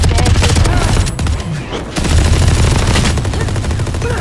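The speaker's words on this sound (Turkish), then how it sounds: "ya etrafı tarıyoruz adam bizi vuruyor" Rapid automatic gunfire from a Valorant match rattles in dense, loud bursts, pauses briefly for about a second, then resumes as sustained fire close up.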